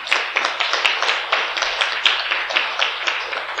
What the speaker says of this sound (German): da könnt ihr auch nochmal Applaus machen.